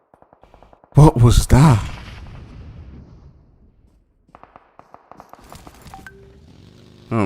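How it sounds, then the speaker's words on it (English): A loud grenade blast in the PUBG battle royale game bursts suddenly, followed by a decaying rumble and scattered distant gunfire, with an excited voice talking afterward. "That nade coming in."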